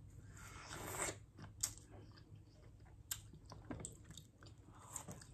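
Close, wet, messy chewing and biting of juicy yellow watermelon, with sharp crunchy bites and slurpy smacking in an irregular rhythm and no talking.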